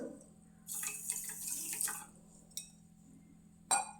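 Water is poured onto sugar in a pan to make jalebi syrup: a short, splashy pour of about a second, then a few scattered drips and small splashes, close and quiet.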